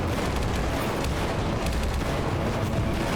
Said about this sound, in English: somebody's shooting him